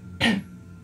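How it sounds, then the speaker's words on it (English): A person clears their throat once, close and brief, a single rough burst standing alone against a quiet background. "Let's go clear my throat."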